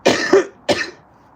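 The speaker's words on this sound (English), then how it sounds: "I've got the cough that won't go away" Two dry coughs from someone with a lingering cold, a quick double cough followed by a single one, close and fairly loud, then quiet.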